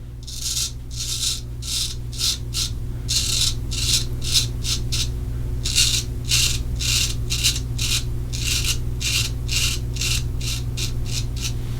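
Rapid rasping strokes of a straight razor across facial stubble at the sideburn, in quick bursts with brief gaps, close up over a low steady hum.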